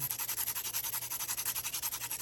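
A pencil's graphite lead is rubbed to a point against an abrasive surface with rapid, rhythmic strokes, about ten per second, making a close, soft, steady scratching rasp.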